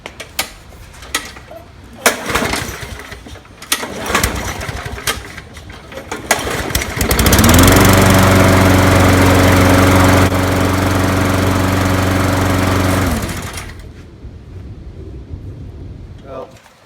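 A curbside Craftsman lawn mower engine, rebuilt and running without an air filter, catches after some clattering and runs loud and steady for several seconds before shutting off.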